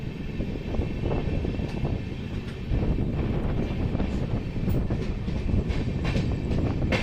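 Kaziranga Express passenger train hauled by a WAP-7 electric locomotive races along at speed, a steady loud rumble with rhythmic wheel clatter and wind rush, heard continuously from onboard with no talking.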